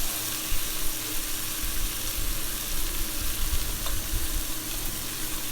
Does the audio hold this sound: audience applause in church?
no